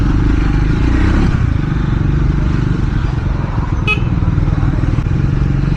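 Riding a motorcycle through heavy morning traffic, the bike's engine drones loudly and steadily up close with road rumble and wind, a brief sharp clatter midway.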